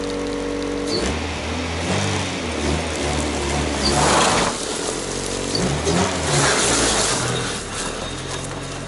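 A Honda Integra DA9 engine, freshly revived with a new clutch, runs steadily up close, a busy mechanical clatter over a low hum with slight swells in revs.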